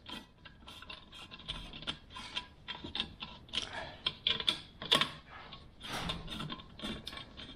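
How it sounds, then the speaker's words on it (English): A 13mm socket wrench working bolts into a Toro Timemaster mower's cylinder head, producing quick irregular ratcheting clicks and metallic ticks in close bursts, fairly quiet and with no talk. "we're going to use our 13mm socket to work our bolts into place"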